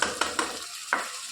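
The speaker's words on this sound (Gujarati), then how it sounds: "2 મિનિટ શેકાવા દીધી આપણે ડુંગળીને" Onions and tomatoes sizzle in a pan while a spoon knocks and stirs them, four sharp clinks over a soft steady frying hiss, close up and brief.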